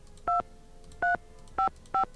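Telephone keypad tones from a phone booth in a Nancy Drew video game, four clear dual-tone beeps spaced evenly apart, loud and isolated against a quiet background.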